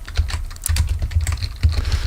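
Code is typed on a computer keyboard in a rapid, uneven patter of close, crisp key clicks that runs continuously with only brief pauses and no voices.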